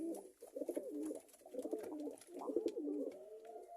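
Rajan-breed pigeons with pale eyes coo over and over at close range, a steady run of soft, throaty, rolling calls with no talking.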